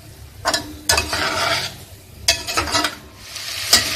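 Lamb meat with green chilies, salt and black pepper stir-fried in a karahi: close, loud sizzling with bursts of scraping stirring strokes at an uneven rhythm, no voices.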